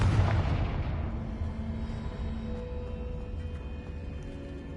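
Confringo spell explosion in a video game: a heavy boom right at the start that fades into a long rumbling tail.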